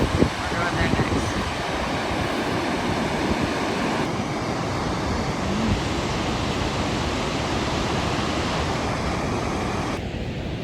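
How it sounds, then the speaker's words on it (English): A huge waterfall in Iceland roars in a dense, steady wash of broadband noise that fills the whole clip, heard close and loud with wind buffeting the microphone. "I don't think I've ever seen a waterfall this big before. It's like Niagara Falls."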